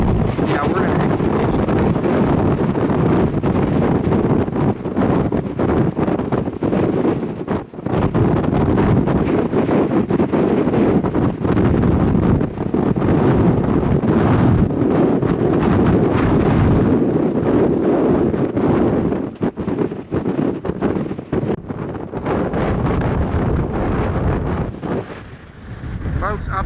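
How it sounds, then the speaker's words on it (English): Strong mountain wind roars and buffets a parked Ford Expedition in Rocky Mountain National Park, a loud continuous rushing with heavy microphone wind noise and gusting surges for the whole stretch, with no clear speech. "This is like hurricane wind up here."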